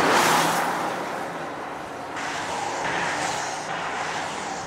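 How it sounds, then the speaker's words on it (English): Volvo V60 Plug-in Hybrid pulling away hard from a standstill toward 100 km/h, a steady broadband rush of road and engine noise that rises and shifts in pitch over a few seconds, with no talking. "We're going to see how quickly the car reaches 100 kilometers per hour from a standing start."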